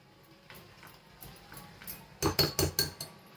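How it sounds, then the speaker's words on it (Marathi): A whisk clinks against a bowl of mango semolina cake batter: faint scattered taps at first, then a close run of five sharp, rhythmic strokes near the end, with no talking. "हे घट्ट झाल्या त्या फेटून घेते थोडं"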